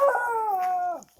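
A Shiba Inu dog giving a single close, sustained howl that slides slowly down in pitch and breaks off into a short whimper, alone and fairly loud.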